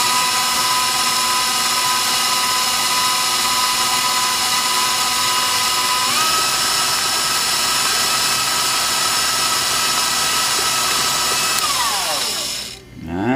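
An electric mixer whirs steadily on low speed through cookie dough for chocolate mint cookies, a close continuous motor whine that shifts pitch slightly partway through and winds down at the end.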